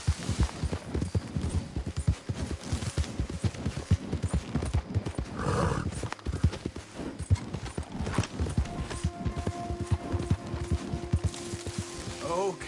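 Horse hooves clip-clop at a steady galloping rhythm in Red Dead Redemption 2, looping under music and game ambience with a brief break near the middle.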